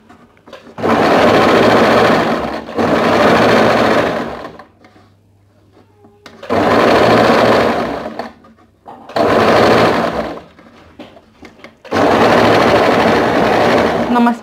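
A sewing machine stitches a bolero jacket, or shrug, in four loud, steady runs of a few seconds each. Short, quiet pauses fall between the runs.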